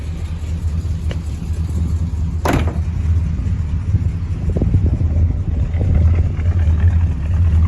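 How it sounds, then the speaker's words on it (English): Chrysler 300 drag car with aftermarket mufflers and mostly bolt-on engine work, idling in a steady deep low rumble that stays even throughout, close up with no talking. "Crank her over, fire her up."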